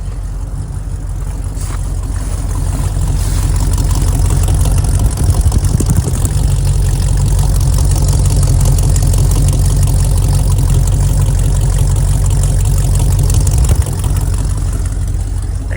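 A 1976 Dodge Californian engine idles steadily after startup with the choke on, a loud, close, even low rumble that holds for the whole stretch with no talking.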